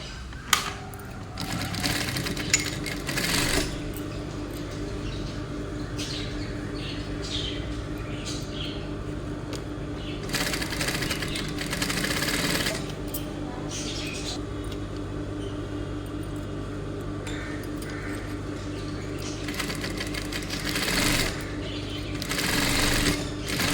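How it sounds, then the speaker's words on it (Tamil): A sewing machine stitches cloth for a pillow in repeated bursts of rapid, even clatter with short pauses between runs, close and clear. "அதனால் கரெக்டாக வச்சு அழகாக தையல் போட்டுக்கோங்க."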